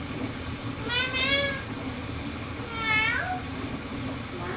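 Two drawn-out, rising meows from a house cat, each about a second long and spaced a couple of seconds apart, fairly close and clear over a steady low background hum.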